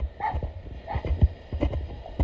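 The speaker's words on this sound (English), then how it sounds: "Barky pup." A small puppy barks in a few short, yappy bursts near a parked car after a morning dive, the sharp yips repeating irregularly with brief gaps.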